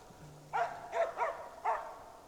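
Hunting dog barking at a bird in a tree in Lapland, four fairly distant barks in an uneven rhythm against a quiet outdoor background.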